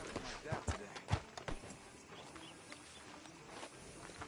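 Horse hooves clip-clop at a walk through a town street in the video game Red Dead Redemption 2, a few clear hoof strikes early on, fading into a steady background murmur as a voice talks.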